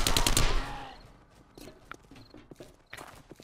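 Burst of SMG fire from 7 Days to Die, loud and rapid for about half a second at the start, then fading into scattered quieter shots and clatter.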